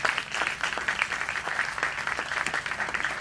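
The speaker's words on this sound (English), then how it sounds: "Round of applause for our panel here." Modest audience applause for a TiE business panel, with scattered distinct claps over a steady patter, moderately faint and sustained without speech.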